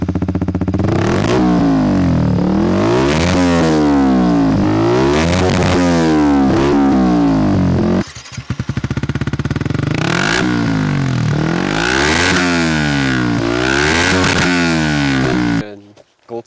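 Yamaha YZF R125 fitted with a tuned Dominator exhaust, revved hard from a cold start in repeated rising and falling bursts, loud and close, with a brief dip midway and an abrupt stop at the end.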